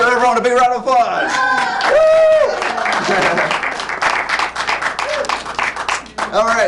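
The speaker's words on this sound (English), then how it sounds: "Let's give everyone a big round of applause." A theatre audience at an improv show claps for the performers, a continuous round of applause mixed with cheering, laughter and voices throughout.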